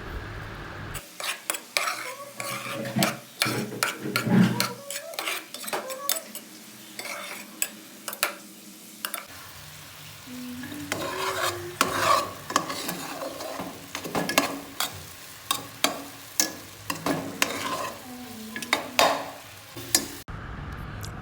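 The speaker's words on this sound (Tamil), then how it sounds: "இடையில கிண்டி விட்டு கொஞ்சம் லோ ஃப்ளேமில் வச்சுக்கொண்டு கிண்டி இருக்க வேண்டியது தான்." A spoon stirs gooseberry jam in a pan over a low flame, giving repeated scraping and clinking strokes with a soft sizzle underneath. The stirring comes in irregular bursts, close and fairly quiet.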